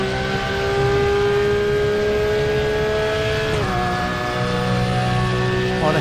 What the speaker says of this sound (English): I might have wound up the sound on the tyres a bit on here, so they're a bit squealy.